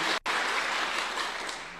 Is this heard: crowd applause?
yes